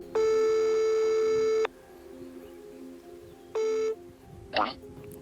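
Telephone line tones during a call: a long steady electronic tone, a pause, then a shorter repeat of the same tone, followed by a brief faint click or blip, with a low background hum.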